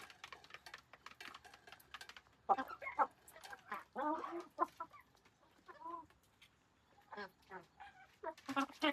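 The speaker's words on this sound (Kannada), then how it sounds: "ಹೆಂಗ್ ಕಚ್ಚಾಡ್ತವೆ ನಮ್ಮನೆ ಕೋಳಿಗಳು ನೋಡಿ." Hens squabble and cluck in a home yard, their sharp, uneven calls coming in quick bursts between pauses, near and fairly clear, with a voice talking at times.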